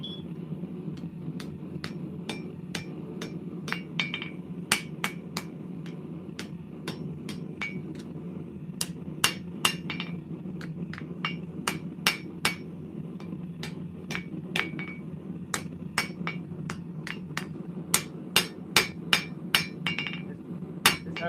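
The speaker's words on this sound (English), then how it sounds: "hammer is a little bit too small for this job." A small hammer striking metal between heats, in sharp ringing blows, sometimes single and sometimes in quick clusters, over a steady low hum of machinery.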